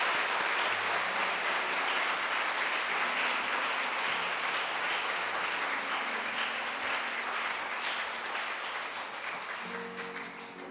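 A church congregation in Korea breaks into sustained, dense applause at an elder's installation service. It is steady and full, with no talk over it, and it tapers slightly toward the end.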